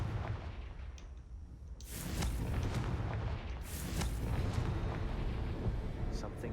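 Confringo spell explosion in the video game Hogwarts Legacy: two sharp, booming blasts about two seconds apart, each followed by a rumbling roar over a noisy battle background.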